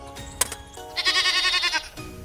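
A battery-operated white sheep toy figure gives one loud, close electronic bleat of about a second, standing alone between short mechanical clicks.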